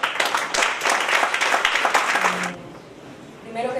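An audience at an international congress on human rights and constitutional law applauds to welcome a distinguished jurist to the stage. Dense, steady clapping fills the hall for about two and a half seconds, then fades into quieter room sound.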